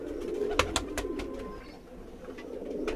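Several pigeons coo at close range on a rooftop loft, low throaty calls repeating with a few sharp clatters of wings or feet, steady background bustle throughout.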